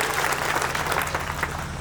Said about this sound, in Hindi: मैं चाहता हूं एक बार जोरदार ताली बजाएं